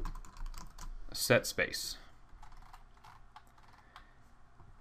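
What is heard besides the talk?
typing on a computer keyboard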